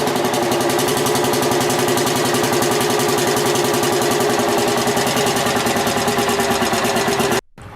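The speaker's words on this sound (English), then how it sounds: "the engine ignites and starts running on its own" A restored antique engine runs steadily after startup, a loud, even, rapid chugging beat holding for several seconds before cutting off abruptly near the end.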